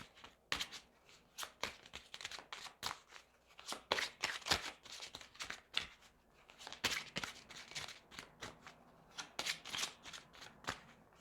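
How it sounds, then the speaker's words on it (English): Oracle cards are shuffled by hand at length, a dense run of quick papery riffles and slaps with brief pauses, close and soft, before a feather oracle card is drawn. "And then one last card here from the feather oracle."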